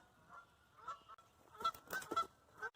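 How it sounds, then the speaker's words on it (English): Several geese honk in loud bursts, a few calls overlapping, against a quiet outdoor background at a cattail pond. "Sorry, geese."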